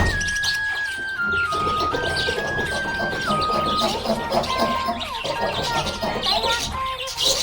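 A happy budgie chirping in quick, high bright bursts mixed with a sung melody and backing music, the bird calls scattered throughout at moderate loudness.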